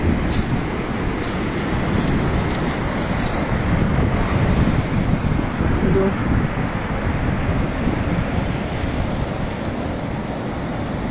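Sea waves and wind at Sidi Kaouki beach in Morocco, a known surf spot, make a steady, loud surf roar with heavy wind buffeting the microphone, with faint voices in the background.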